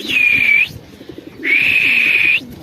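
A black Shahjahanpuri pigeon coos close by in two long, loud sustained calls separated by a short pause, with faint shuffling beneath.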